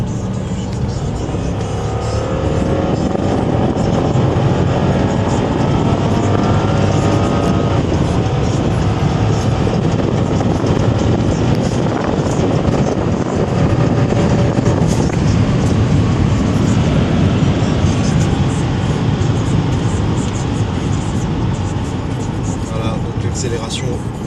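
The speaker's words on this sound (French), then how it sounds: "Je vais accélérer. On va faire un kick down." Cadillac Seville STS V8 accelerating hard on kick-down just after a bend, a loud sustained engine roar rising under road and wind noise, heard from inside the car with someone talking over it.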